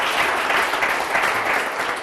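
An audience bursts into applause at a school-promotion event in Villa Lagarina, a dense, loud and steady clatter of many hands filling the whole moment with no voices over it.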